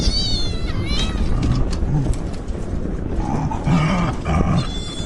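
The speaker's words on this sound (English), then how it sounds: "Joy the dog approaches the cat on the deck." A cat on a deck by a lake as a black dog approaches, with several high meows and cries in short bursts, backed by a low cooing and a steady outdoor rumble.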